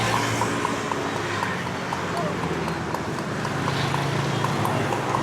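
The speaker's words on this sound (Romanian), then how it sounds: "You're with the horse on the street." A horse clip-clopping along a street in Romania, its steady hoofbeats partly masked under loud, continuous broadband noise.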